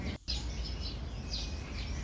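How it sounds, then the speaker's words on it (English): Birds at the Hong Kong bird market chirp in short, high, repeated calls over a steady low background hum, moderately loud and close. "follow the sound of the birds"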